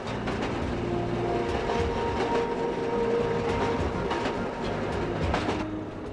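A scenic train rumbles steadily along the tracks through the South Branch Valley of the Potomac River, wheels clicking rhythmically with a faint squeal, heard continuously and fairly close without voices.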